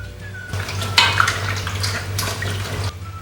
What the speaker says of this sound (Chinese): 加入清水清洗干净